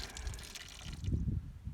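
Water gurgles and splashes as a jug is emptied, a short burst of liquid pouring out alone after a faint hiss, apparently flushing out a fired 90 grain Hornady Critical Defense bullet.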